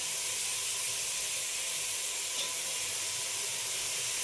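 Eggplant and potato pieces frying in a pan for a sprouted horse gram sambar, giving a steady, loud, even sizzling hiss throughout with no talking.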